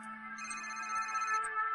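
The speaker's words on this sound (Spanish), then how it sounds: "Suena el móvil de Lenny John y es Bob Spangler." A mobile phone ringtone plays as a steady electronic melody of clear, sustained tones, fairly quiet and alone without any voices.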